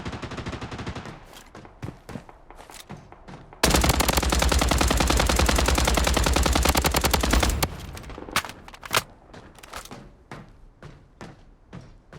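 Sustained automatic gunfire from the online shooter game Blood Strike, a dense loud burst of rapid shots lasting several seconds, framed by scattered single shots, clicks and game effects before and after.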